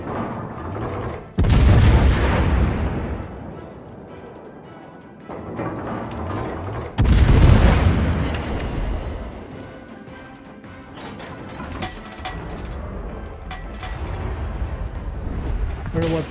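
Naval gunfire and incoming shells in the World of Warships game: heavy booming salvos crash in twice, each decaying into a rumbling tail, with further explosive impacts and battle noise continuing throughout, partly under a player's voice.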